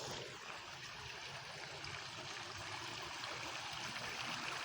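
A waterfall by a riverside makes a faint, continuous rushing and trickling of water, steady and somewhat distant, with no voices.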